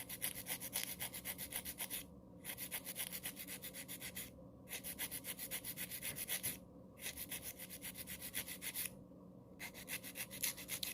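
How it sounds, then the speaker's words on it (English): A nail file rasps against a fingernail, tapering it in steady rapid back-and-forth strokes, close and faint, with short pauses between runs and no talk. "and then start filing in"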